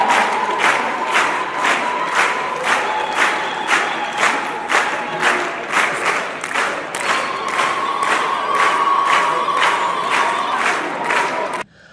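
A large graduation crowd at Edna Adan University in Hargeisa erupts in loud, sustained ululation and cheering, with rhythmic pulsing trills and shouts that continue steadily before cutting off abruptly.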